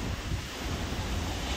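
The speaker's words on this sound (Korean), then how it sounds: "오, 파도." Ocean waves wash steadily onto the shore at night on Jeju Island, a continuous broad roar and hiss with some wind rumble on the microphone and no talk.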